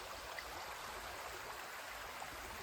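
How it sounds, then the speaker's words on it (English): A river flowing beside a countryside walking path in the Yorkshire Dales, a steady close rushing wash of water, continuous and even throughout with no talking. "I'm walking alongside the river at the moment."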